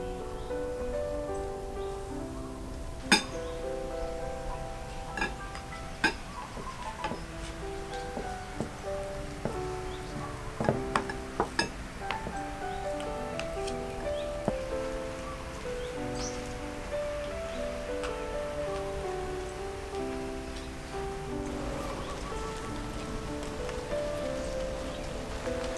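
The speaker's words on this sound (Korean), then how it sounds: "비가 오는데" Rain falling in the Philippine countryside, a steady soft patter with scattered sharper drops over a background of faint music-like tones.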